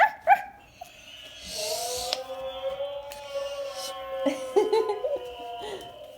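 A puppy barks in short excited yelps and then whimpers in high, wavering whines, close by and fairly loud, with a person speaking softly nearby.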